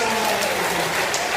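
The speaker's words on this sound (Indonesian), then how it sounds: "Tepuk tangan untuk saya." Audience applause fills a short burst at a live Catholic student prayer fellowship gathering in Malang, a dense, steady wash of clapping with voices mixed in.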